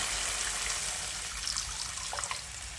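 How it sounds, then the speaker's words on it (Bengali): Water poured into a cooked spice masala for a rohu fish curry, giving a steady, continuous rushing splash that holds at an even level for a few seconds, then cuts off abruptly. "এবার এই পর্যায়ে পরিমাণ মতো জল দিয়ে দিচ্ছি"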